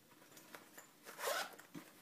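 A zipper on the pouch of an IK Multimedia iRig Mic is pulled in a few quick, close strokes, with one longer, louder zip near the end, in a quiet room.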